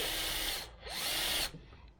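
A power drill whines through a hole in the middle of the track on a Land Rover Series IIa's front suspension in two loud bursts with a brief pause between them, then winds down, close and without talk.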